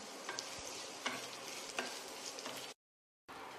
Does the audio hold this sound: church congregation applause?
no